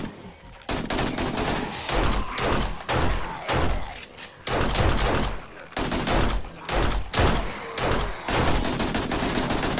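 AK rifle fire during a zombie horde night in the survival game 7 Days to Die, Alpha 17: loud, close bursts of automatic shots come in repeated volleys with brief pauses between them.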